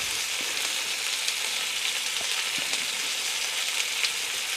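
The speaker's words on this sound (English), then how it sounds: "I've had them frying in the pan for quite a while." Fatty old sheep meat fries in a pan over moderately hot heat, giving a steady, even sizzle with no break and no voices.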